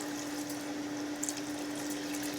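Excess liquid poured off cooked ground beef being prepped as taco meat, a steady continuous trickle and splash of fluid, close and fairly quiet, with no talking.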